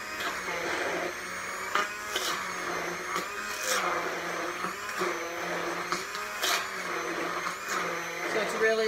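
Electric blender whipping cream into butter as it thickens, a steady high motor whine with rattling bursts and pitch dips as the load changes, while someone talks over it.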